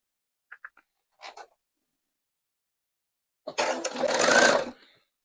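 A sewing machine stitches a machine-pieced quilt block: a few short needle taps, then a brief run, then a louder sustained burst of stitching lasting about a second and a half, close and clear in a quiet room.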